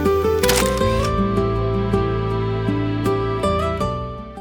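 A camera shutter snaps a few times along a rural walking path in Yufuin, Japan. The crisp clicks come in ones and twos over steady background music.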